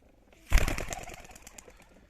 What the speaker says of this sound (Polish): te gołąbki w pojedynkę sobie lecą